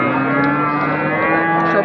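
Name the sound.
cattle mooing, large sacrificial bulls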